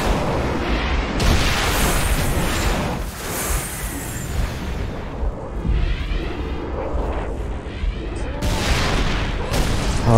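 Enemy gunfire in a video game, loud booming shots and blasts layered with rumbling impacts, fairly continuous over the span.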